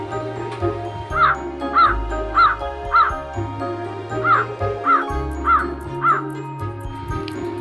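Cartoon crow in a children's animated story caws eight times in a steady rhythm, loud and close over a background music bed.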